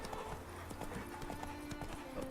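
Hoofbeats of a galloping horse in The Witcher III pound in a quick, rolling rhythm, faint and continuous, without talk.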